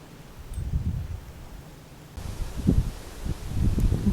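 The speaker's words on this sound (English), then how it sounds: "It is very windy." Wind gusts rustle through leaves and grass in a Kent woodland meadow in July, in soft, uneven surges, with some rumble buffeting the microphone.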